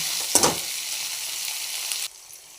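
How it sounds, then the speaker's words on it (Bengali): A large onion, a tomato and two green chillies for a bhetki fish-bone chachchari hit hot oil with a sharp burst, then sizzle steadily and loudly up close before the sound drops away abruptly near the end. "এর মধ্যে আমি একটা বড় সাইজের পেঁয়াজ এবং একটা টমেটো এবং দুটো কাঁচা লঙ্কা দিলাম"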